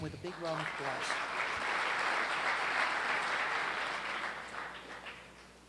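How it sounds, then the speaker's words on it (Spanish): An audience claps for a guest speaker at a concrete industry talk, the applause swelling quickly, holding steady and fading over a few seconds, with a brief voice at the start. "Démosle la bienvenida con un fuerte aplauso."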